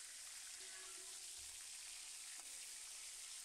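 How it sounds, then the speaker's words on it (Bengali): Chicken pieces fry in a pan, turned to brown on each side, giving a fine, continuous crackling sizzle that stays soft and even throughout. "এই পাশ ওপাশ করে ভালো করে ভেজে নিতে হবে, যাতে চিকেনগুলো গায়ে একটু লাল হয়ে দাগ লাগে।"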